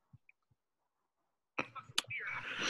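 A sneeze bursts out abruptly during a conference call after a few faint clicks and near silence, followed by breathy noise and rustle close to the microphone.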